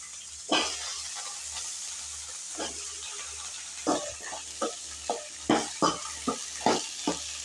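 Brinjal and green peas sautéed in a pan, a soft steady sizzle under a series of distinct scraping stirs that come faster and more regularly in the second half.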